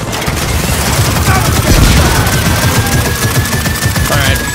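Gunfire in the Gears of War 4 video game comes as dense, loud automatic bursts with booming impacts, rattling on almost without a break.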